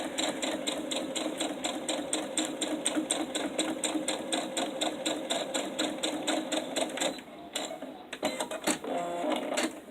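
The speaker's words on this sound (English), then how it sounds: "And I'm just sewing." A sewing machine stitching steadily, a rapid rhythmic mechanical clatter that runs nearly continuously, pausing briefly once before resuming, loud and close.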